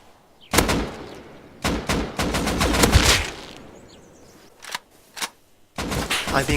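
Gunfire in a video game shooting match: loud, close bursts of rapid automatic shots in several volleys separated by short pauses, with a few single shots between.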